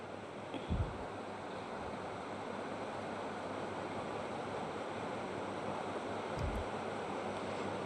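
Mustard seeds and lentils frying in hot oil in a kadai, a dense, continuous hiss and sizzle heard up close and alone.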